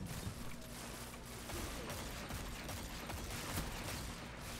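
Gunfire in the video game Destiny 2: a dense, continuous stretch of rapid mechanical shots and clattering weapon noise, moderately loud and steady throughout with no talk over it.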